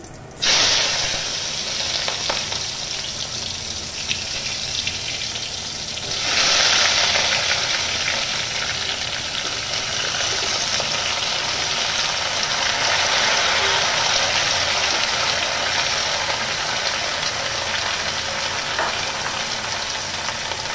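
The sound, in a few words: vegetables frying in pan with cumin tempering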